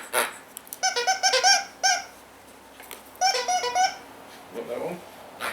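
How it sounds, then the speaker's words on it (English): A dog's squeaky toy is squeezed in quick bursts of shrill, high squeaks, two close clusters with a short lone squeak between them, followed by faint murmuring. "Squeaky toys."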